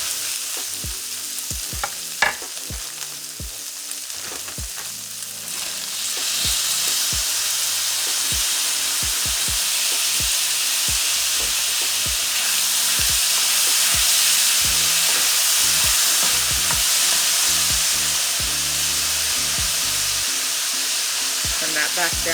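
Onions sizzle and fry in a hot pan with browned pork for green chili, a loud, steady hiss with frequent stirring clicks and scrapes throughout, no talking.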